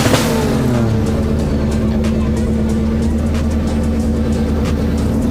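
A Mercedes drift car runs at the Calmont touge during a French drift championship round, its engine roaring loud and close in a steady, sustained howl with no pause.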